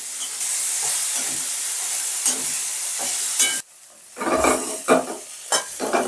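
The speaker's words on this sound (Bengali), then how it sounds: "এরকম করে হালকা হালকা কম আছে ছাতুটা কিন্তু ভেজে নিতে হবে" Sattu flour frying and being stirred in a pan: a steady sizzle with scraping stir strokes, pausing briefly midway before quieter, uneven stirring resumes near the mic.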